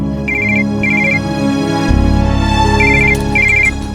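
A telephone rings in repeated short trilling bursts, two near the start and two more toward the end, over a steady tonal musical backdrop that swells midway.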